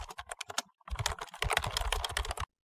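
Someone types a prompt on a computer keyboard. Rapid, continuous key clicks come in dense bursts with a brief pause, close and clear, with no voice.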